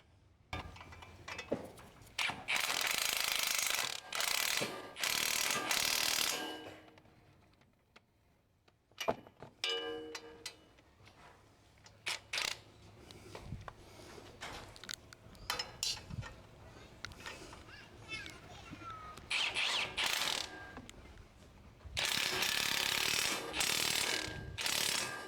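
Ratchet tightening coilover nuts on a Chevrolet Sonic, with bursts of close clicking strokes, a quieter stretch of fiddling and small knocks in the middle, then another burst of ratcheting at the end.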